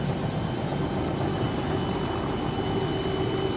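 Steady, loud rotor and engine drone fills the whole stretch, a constant broadband roar from inside a helicopter flying from Gladstone Airport to Heron Island, with no talking.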